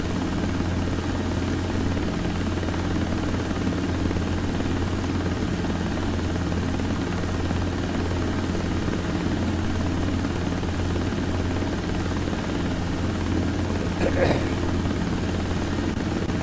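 Helicopter in a desktop flight simulator game, flying under visual flight rules toward an airport: a steady, continuous rotor and engine drone runs at even loudness throughout, with no talk over it.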